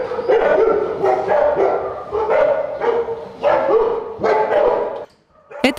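Several dogs barking repeatedly in bursts, loud and close, inside an apartment building, with a short quiet gap near the end.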